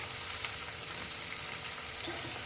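Onions, green chillies and curry leaves frying over high heat in a pan, a dense, even sizzle that holds steady and close throughout.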